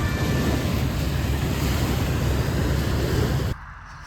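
Steady roar of ocean surf and wind buffeting the microphone at a beach, loud and continuous, then cutting to a quieter wash near the end.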